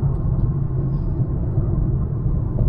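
Rear suspension of a Kia Forte GT rumbling on the road while driving, a steady, loud low-frequency drone with continuous road roar and no voices.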